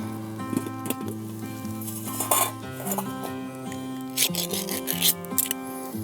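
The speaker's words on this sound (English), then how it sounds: "We're just going to cut the Spam inside the skillet" A knife scrapes and clinks against a skillet while cutting Spam at a backpacking campsite, with irregular metallic scraping and tapping over a steady background of tonal hum, no talking.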